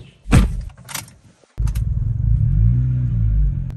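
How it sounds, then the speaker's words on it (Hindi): A car from a collection being started after a long idle: a couple of sharp clicks and a pause, then the engine catches and settles into a steady rumbling idle close by. "बड़े अरसे के बाद भाई ने आपकी गाड़ी स्टार्ट की है"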